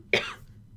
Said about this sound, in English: I'm just coughing up a storm.